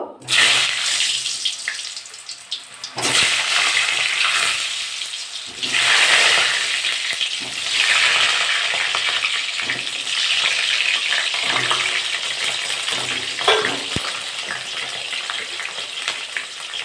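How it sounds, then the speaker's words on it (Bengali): Potatoes frying in hot mustard oil give loud, close, hissing sizzle in long bursts that swell and fade, with short quieter gaps between. "তেলটা গরম হয়ে গেছে, আলুগুলো এবার ভেজে নেব।"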